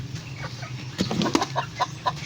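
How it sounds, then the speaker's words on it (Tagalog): Several chickens cluck and squawk in short, uneven bursts nearby, over a low background hum, with a brief flutter of wings. "mga pasaway na manok"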